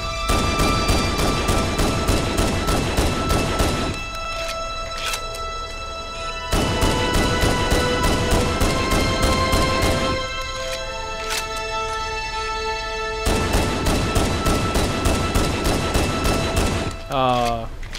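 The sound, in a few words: Magnum pistol gunfire in video game Halo CE Anniversary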